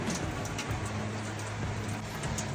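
Steady rain falls outdoors in mountain country, a dense even hiss of drops on surfaces with a low background rumble and no talk.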